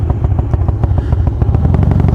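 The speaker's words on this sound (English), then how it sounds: "I'm really curious about how this engine sounds." Harley-Davidson Twin Cam 88 V-twin fitted with Feuling 525 cams runs steadily, a loud close lumpy idle with an even rapid pulsing beat and mechanical clatter, no voices.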